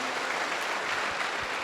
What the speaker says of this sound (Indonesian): dahsyat sekali katakan tepuk tangan dong